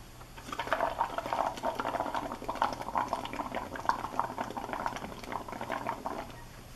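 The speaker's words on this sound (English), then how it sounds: "We're going to blow bubbles." Breath blown through a straw into a cup of water for a Halloween bubble ghost craft, a steady close bubbling and gurgling that runs continuously for several seconds without talk.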